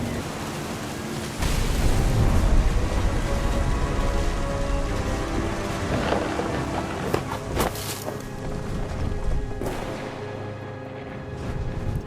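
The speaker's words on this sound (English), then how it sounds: "The thunder sounded much too close and full of angry power." Heavy rain and low rumbling thunder in the game What Remains of Edith Finch, with a steady downpour and a few sharp, close thunder cracks breaking through, no voices.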